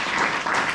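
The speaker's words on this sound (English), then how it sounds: "if everybody give one more round of applause to Val" A room full of people at a university program's closing session applauds steadily, a dense wash of many hands clapping at once, sustained and fairly loud throughout with no voices over it.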